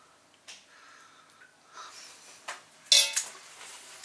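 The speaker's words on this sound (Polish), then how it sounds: "Słuchajcie, cały czas mieszamy." Tagliolini carbonara stirred in a pan with utensils, sparse metallic clinks and scrapes at irregular intervals, one sharper clatter near the end, otherwise quiet.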